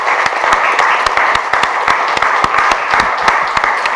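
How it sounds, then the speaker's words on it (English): Audience members at a Buddhist convocation public talk clap for themselves, a loud, close, somewhat sparse applause with distinct individual claps standing out over the steady patter. "let's give ourselves applause for sitting"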